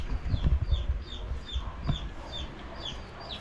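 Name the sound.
chick / chickens clucking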